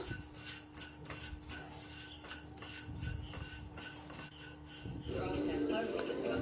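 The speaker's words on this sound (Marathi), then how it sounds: "त्याच कढईमध्ये धने घालूया धने भाजून घेऊया" Coriander seeds are dry-roasted in a wok while preparing bhajani flour for crisp chakli, with light scraping and clinking of a spatula against the pan and a low background hum, faint and close.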